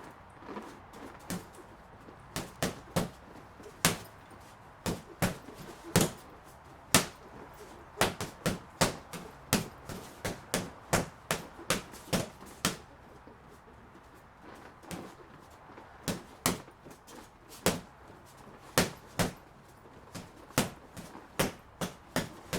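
Boxing gloves strike a Ringside Elite free-standing punching bag in a steady string of sharp, close thumps, sometimes single and sometimes in quick pairs and bursts, throughout.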